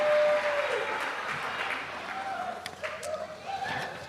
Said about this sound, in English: Let's have one more round of applause for all of our honored teachers.